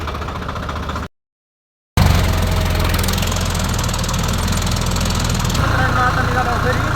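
A Swaraj 855 FE tractor engine runs with a loud, steady low rumble and knocking vibration. It cuts out briefly near the start, then resumes unbroken and close.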